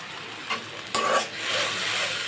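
Turmeric, chili and coriander powder frying in oil in a pan for a pabda fish and eggplant curry, giving a steady close sizzle with a couple of brief stirring scrapes.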